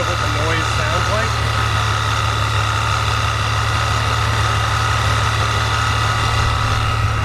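A car engine's supercharger blower runs with a steady mechanical whine over a constant low engine drone, holding loud and unchanging throughout, with faint indistinct voices in the background.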